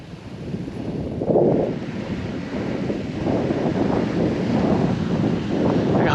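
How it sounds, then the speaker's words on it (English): Strong wind buffets the microphone beside a lake with a spraying fountain during a fishing outing, a steady low roar that swells and gusts throughout, with no talking. "That's how strong the wind is."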